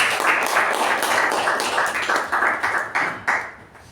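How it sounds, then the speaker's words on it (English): A small audience at a Toastmasters club meeting claps together in a steady, fairly loud round, the pulses of the clapping easing off and fading near the end. "Can we have a huge round of applause for the distinguished Toastmasters?"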